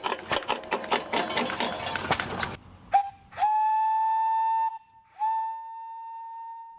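Steam whistles sound at an antique steam, auto and gas machinery show, first under clattering engine noise, then two long, clear, loud tonal blasts separated by a short pause.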